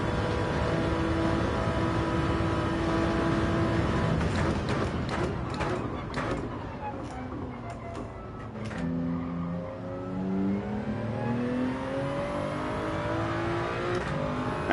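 Race car engine revving and shifting under hard braking into a hairpin in Gran Turismo 7, a steady loud drone with rising and falling pitch and sharp downshift blips midway, with faint talk underneath.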